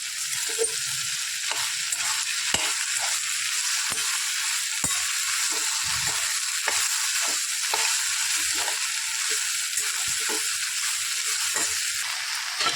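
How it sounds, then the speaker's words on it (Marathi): Chopped okra stir-fried in a pan over a medium flame for a spiced okra dish, giving a steady sizzle throughout with regular scraping and clinking of the spatula against the pan, up close. "आपण सगळी ह्यामध्ये ओतून घेऊया आणि चांगली अशी परतून घेऊया गॅसची फ्लेम मिडियम ठेवायची"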